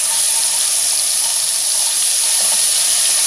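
Ginger and ginger garlic paste fry in hot oil for a lauki aloo sabji, giving a loud, steady, close hiss with no break.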